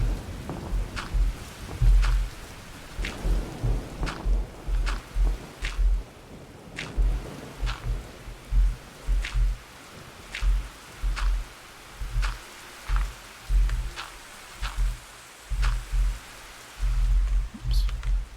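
A rainy thunderstorm in the game Minecraft hisses steadily, with deep booming pulses recurring at a regular pace beneath the downpour.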